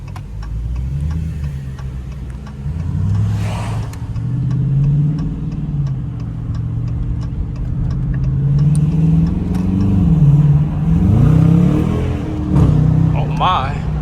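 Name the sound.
2021 Dodge Challenger RT engine accelerating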